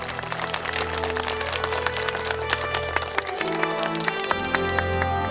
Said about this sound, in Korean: 여러분들도 함께 축하의 박수 보내주시기 바랍니다.